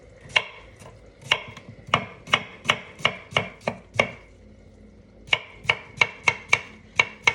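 A knife chops half a cucumber for a salad in crisp, evenly spaced cuts against a board, about a dozen sharp strokes, then a short pause, then another quick run.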